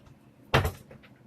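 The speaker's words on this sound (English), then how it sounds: "Close the door." A door swinging shut with a single short, soft thud in an otherwise quiet room.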